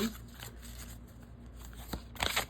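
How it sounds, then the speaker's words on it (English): A stiff, not very bendy tarot-style card deck is shuffled overhand, giving soft rustling flicks and a brisker burst of riffling near the end, close and fairly quiet. "So they do kind of lend themselves to overhand shuffling for sure."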